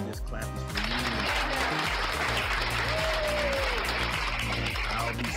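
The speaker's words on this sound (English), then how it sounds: "This clap is for" Dense applause and clapping from a crowd at a college football game between North Carolina A&T and Maine, a steady loud wash of claps that begins abruptly and continues throughout, with some musical tones underneath.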